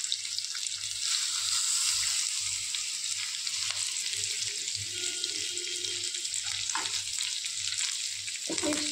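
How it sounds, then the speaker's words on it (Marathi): Mackerel coated in green masala frying in a little oil on a tawa, giving a continuous close hiss of sizzling oil that stays steady and alone, with a faint low hum beneath it. "फिश छान दोन्ही बाजूने आपण फ्राय होऊ देऊ."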